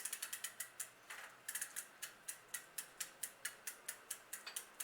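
A ratchet tightens the crank arm bolt on an S&M Motoman BMX bike, giving a steady run of quiet, evenly spaced clicks, around four per second, with no talking.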